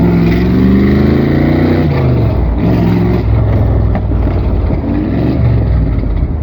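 An AC Cobra 427 engine revs hard in second gear, a loud, close V8 roar that climbs, drops on the shift and rises again, filling the whole stretch with no talking.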